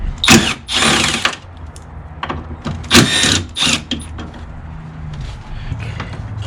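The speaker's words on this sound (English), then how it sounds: "So I'm going to take these two screws out. They're T30." Two T30 screws are being removed from a bracket in the engine bay of an MK5 GTI, giving close bursts of mechanical whirring and ratcheting with rattly pauses between them.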